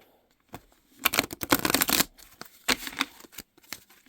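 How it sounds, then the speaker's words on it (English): Tarot cards being shuffled by hand, a series of quick papery riffles and flicks in bursts, close and fairly quiet. "One more shuffle."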